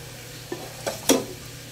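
Glutinous rice for champorado being stirred in a pot, three short scraping clinks at quiet intervals, the last one loudest, over a faint background hum.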